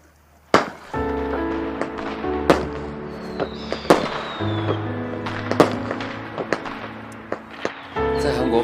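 Fireworks burst in a night sky for a birthday celebration, with sharp cracking bangs at irregular intervals, some with whistling trails, over a steady background hum.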